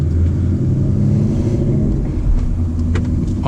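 A 2019 Ford Mustang GT with a weighted shift knob drives along, giving a steady, loud low engine rumble and road noise throughout, with no talking.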